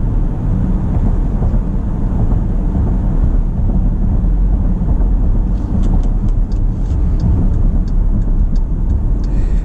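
Cabin road noise inside a 2019 Dodge Durango R/T AWD while driving: a steady low rumble and tire roar that continues without a break, with faint rattly ticks near the end and no voices.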